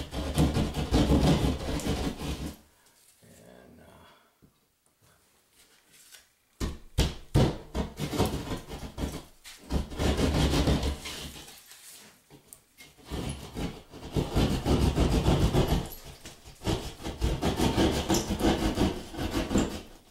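A utility cutter rasps and saws along a marked line in drywall while fitting an exhaust fan, making loud, rhythmic scraping strokes in bursts with a short quieter pause partway through.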